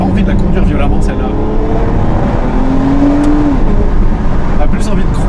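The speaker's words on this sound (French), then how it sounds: "c'est une voiture que là je la pousse un peu pour écouter le moteur" An Aston Martin V12 Vantage S is driven on a road with its V12 engine pushed harder, a loud steady drone with a rising rev that sweeps upward, heard from inside the car as someone talks.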